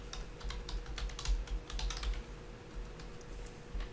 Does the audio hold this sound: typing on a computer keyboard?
yes